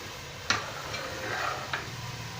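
Dry spices with ginger and garlic fry in a pan for Sindhi chicken pulao, giving a soft steady sizzle broken by a couple of sharp utensil scrapes or clinks as the mix is stirred; no one speaks.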